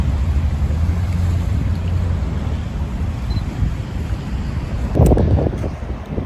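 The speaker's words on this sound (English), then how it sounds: "we're on the beach at Darwin, northern end near Casuarina" Waves wash continuously on the beach at Darwin near Casuarina in northern Australia, a loud, steady surf roar mixed with heavy wind buffeting the microphone and a brief swell of louder water near the end.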